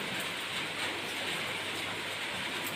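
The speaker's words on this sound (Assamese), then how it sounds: "এয়া বৰষুণৰ শব্দ।" Rain falls steadily in a continuous, even hiss of dense drops, moderately loud and close, with no other sounds or voices.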